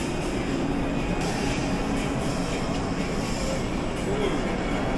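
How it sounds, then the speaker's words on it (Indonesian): A regular passenger train, not a metro, rumbles past with a loud, continuous, broadband roar that stays steady throughout at close range. "Kereta biasa bukan MRT ini mas."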